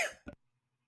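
A single close, sharp cough followed by a short second huff, then quiet.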